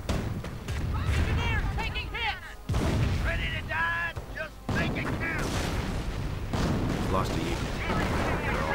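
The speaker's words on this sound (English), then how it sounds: "The Ostwind tearing through some of these less veteran riflemen." Ostwind flak tank gunfire in Company of Heroes, rapid booming cannon bursts cutting down riflemen amid a dense battle mix, loud and repeated, with commentary talk running over it.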